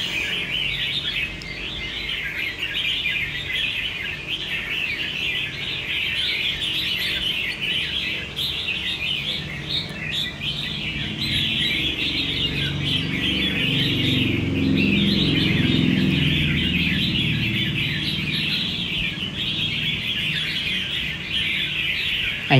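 A caged phách songbird with a lân kim crest calls in sustained bright chirps and trills, loud and close, over a low murmur of background noise, with no talk.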